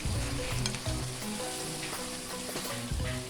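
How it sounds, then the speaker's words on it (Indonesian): Loud steady sizzling and bubbling as fried potatoes are added to boiling spicy sauce in a pan, with occasional stirring clatter, no talking. "setelah mendidih kita masukkan ya kentang gorengnya"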